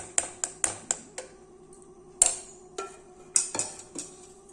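A metal spoon stirs wheat rava pongal in a pan, giving sharp, irregular clinks and taps against the metal, some in quick clusters and others spaced apart, with quiet scraping in between.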